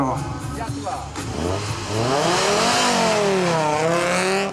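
An Audi rally car launches at the start of a stage, its engine rising and revving hard in sweeping pitch climbs, loud and fairly close, while a commentator talks over the first seconds.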